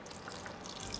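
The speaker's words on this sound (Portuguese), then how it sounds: "Dissolvi com um pouquinho de água. E vou pingando aos poucos aqui." Cornstarch slurry dissolved in water dripped little by little into a vegan curry, giving soft, faint liquid drips over a steady low background with no talking.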